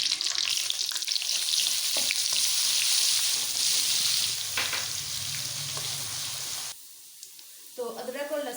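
Ginger garlic paste fries in hot oil with a loud, steady sizzle that fills most of the stretch, then cuts off abruptly into a quieter moment with a few faint clinks and scrapes.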